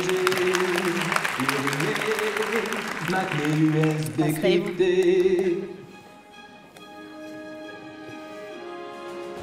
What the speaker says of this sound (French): Oui, applaudissez-les.